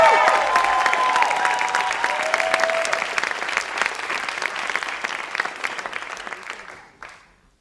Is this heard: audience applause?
yes